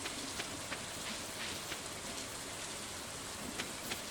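Steady rain falls in Stardew Valley, a dense, even hiss with scattered droplet ticks that continues without a break and with no voices.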